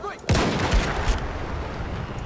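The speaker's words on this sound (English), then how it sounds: "18 fucking shots as soon as I loaded in" Rapid bursts of video game gunfire erupt after a brief quiet start, sustained loud shots and impacts filling the scene in a dense, continuous volley.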